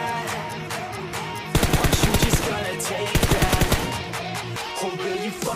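PUBG Mobile gunfire in two loud rapid automatic bursts separated by a pause, set against steady background game sounds, with a brief voice heard faintly.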